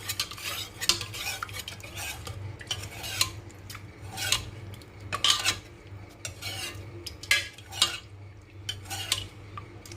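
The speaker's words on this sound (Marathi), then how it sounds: "जरा घोटून घेऊया।" Cooked dal and spinach are mashed in a pressure cooker pot with a metal utensil, giving repeated soft scraping and clinking strokes at an irregular pace, close and fairly quiet.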